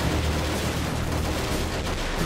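Dense, continuous gunfire rattles from the battlefield of the video game Men of War with the Army Men mod: overlapping rifle and machine-gun bursts, loud and unbroken, with no talk over them.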